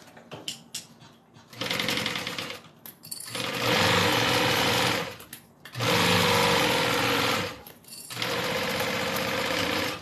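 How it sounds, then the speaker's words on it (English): Sewing machine stitching the bottom of a classic zip-around wallet, running in three long, loud, steady bursts of rapid needle rattle separated by short pauses and soft handling clicks. "Line up my bottom with the end of the front, clip that in place, and then we're going to stitch that down."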